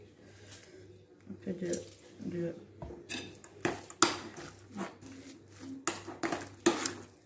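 Cheese and ricotta being mixed in a bowl for cheese turnovers, with repeated clinks and scrapes of a utensil against the bowl, irregular and close, under a woman's speech.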